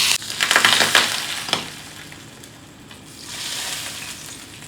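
Hot oil, heated until very hot, poured over a cooked beef leg (beef raan), giving a sharp burst of crackling sizzle that fades over a few seconds and then swells again softly, close up with no talking.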